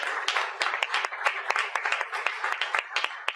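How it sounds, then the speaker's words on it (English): Seated attendees at a social media panel event clap for the panel members, a lively continuous round of many hands with crisp individual claps standing out in the mix. "And let's give our great panel members a round of applause."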